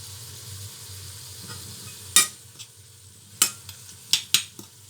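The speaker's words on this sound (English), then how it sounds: "I'm allowing that to fry for a little while." Tomatoes, onions, garlic and red chilies fry in a pan with a steady, soft sizzle, broken by several sharp clinks of a utensil against the pan.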